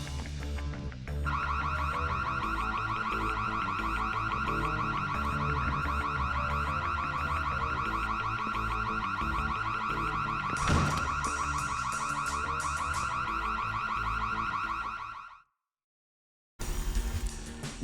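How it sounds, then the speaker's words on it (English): A loud, steady electronic alarm blares continuously in the stealth video game Splinter Cell, holding a constant wailing tone for about fifteen seconds, cut by a brief burst of noise, then stopping abruptly before resuming. "Sound the alarm."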